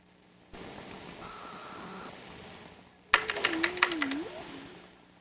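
Keyboard typing in the virtual world Second Life, a run of quick clustered key clicks over a low hum, following a stretch of quiet background noise, with a voice speaking over the clicks.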